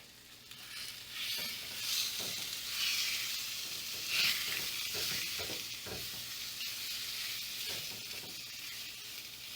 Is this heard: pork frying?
yes